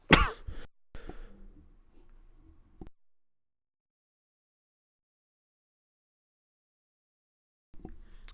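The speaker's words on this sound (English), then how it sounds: "sorry about that, I just needed a cough." A single sharp cough up close, followed by a few seconds of faint rustling and breath, then near silence before a brief noise at the end.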